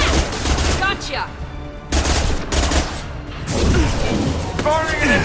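Gunfire in the video game Mass Effect: rapid bursts of fusillade shots and impacts in repeated volleys, loud and close, with game voices calling out between them.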